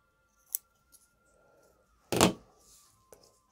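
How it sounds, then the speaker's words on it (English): Scissors snip small bits of fabric while sewing knickers: a few sharp, close cuts spaced apart, one louder snip in the middle, in an otherwise quiet room. "Then I can cut those little bits off then."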